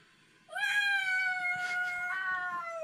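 A human voice imitates a kitten's meow: one long, rising then sustained mewing cry after a short quiet start, fairly close and clear, with no other talk.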